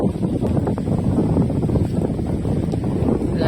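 Steady wind at the sea buffets the microphone in a low, constant roar, with a rough rumbling texture and no voices.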